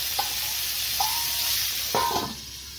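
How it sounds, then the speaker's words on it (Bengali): Pointed gourd frying with salt in a covered pan, a steady close sizzle broken by three sharp metallic stirring scrapes, with no talking. "আমি ঢেকে দিব, ঢেকে ভাজবো পটলটাকে।"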